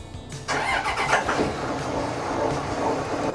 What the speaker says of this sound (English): I'll start the engine with the hatch open